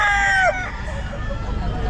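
A rooster crows loudly and close by at a busy pet market, one short crow that cuts off quickly, followed by low crowd and market background noise.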